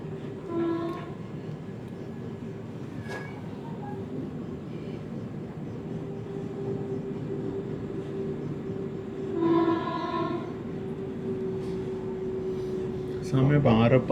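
Vande Bharat Express running through Bangarpet station without stopping, heard from inside the AC chair car as a steady rolling rumble, with two short horn-like tonal blasts and a clatter near the end.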